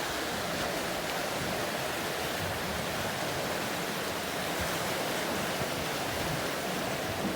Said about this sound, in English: Look at the force of the water.